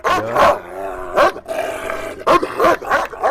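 A Malaklı dog growls and barks in several loud, close bursts separated by short pauses.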